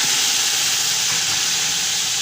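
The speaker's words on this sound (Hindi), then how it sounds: "ये हमने गोश्त डाल दिया, इसको तकरीबन 4 से 5 मिनट तक इसको खूब अच्छी तरह भूनेंगे" Mutton fries in garlic-ginger paste in a hot pan, a loud, steady, close sizzle with continuous hissing and no talk.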